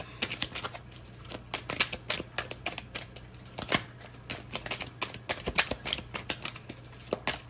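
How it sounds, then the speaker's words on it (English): Tarot cards are shuffled and pulled close to the microphone, a rapid, dense run of crisp riffling flicks and slaps continuing throughout over a low background hum. "pulling more cards to give you a few different possibilities"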